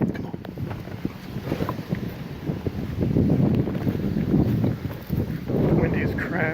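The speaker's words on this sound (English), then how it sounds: "Windy as crap." Strong storm wind buffets the microphone outdoors during a lightning storm on a dove hunt, a steady roaring rush that swells louder halfway through, with no talk.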